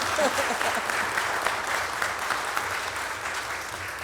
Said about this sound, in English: can we have one more round of applause